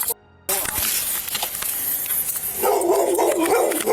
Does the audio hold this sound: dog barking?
yes